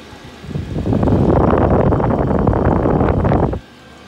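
A diesel air heater fires up into a steady loud roaring whoosh that holds for a few seconds, then cuts off abruptly, leaving a quiet hum.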